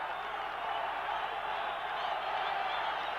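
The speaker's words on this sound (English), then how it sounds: "So it certainly livened up the crowd now." Stadium crowd roaring and cheering at a 1990 friendly football match between Colombia and the USSR, a broad, steady wash of massed voices with no distinct pauses.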